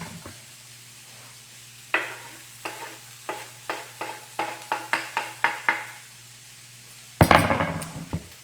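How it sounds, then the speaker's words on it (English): Garlic sizzles in a hot pan for shrimp curry while a utensil stirs it, giving a series of sharp scraping strokes over a steady fry, with a louder clatter of cookware near the end. "It's a good time for me to add in my garlic."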